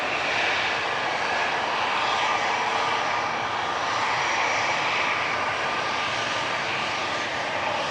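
A Jet2 Airbus A321 departing Manchester Airport: a loud, steady jet roar that holds for the whole stretch, with no other sounds above it.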